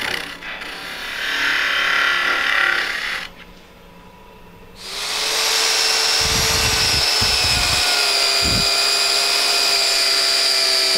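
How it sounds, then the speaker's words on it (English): Hand drill boring holes for the arms into a green wood garden gnome body, a steady close grinding whir with a pause midway, then resuming with a few low knocks and bumps. "now I'm just drilling the holes for the arms"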